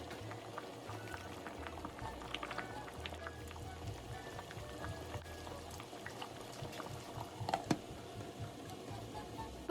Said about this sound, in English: So I let it boil for another 10 minutes.